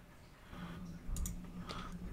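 A couple of crisp, faint clicks from a computer mouse over quiet room tone, two sharp taps close together followed by one more shortly after.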